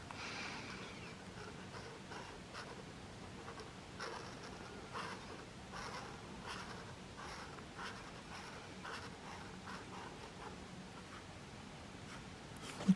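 An Ohuhu water-based art marker squeaks and scratches faintly across Pupe paper, soft close strokes repeating in uneven rhythm while a drawing is coloured in. The room is otherwise quiet, and no one speaks.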